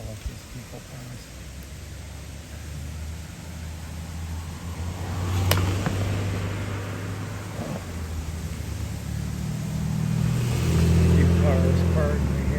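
Cars pass along a paved road in Tawawa Park, Sidney, Ohio, their low engine and tyre rumble swelling and fading as each one goes by, over a steady outdoor hiss, with a sharp click partway through.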